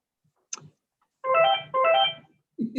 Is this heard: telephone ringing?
yes